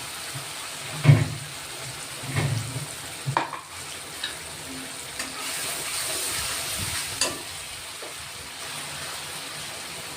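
Ground sesame and peanut masala sizzles in hot oil with asafoetida for an aubergine curry, a soft steady hiss punctuated by a few louder stirring scrapes and knocks, close but fairly quiet.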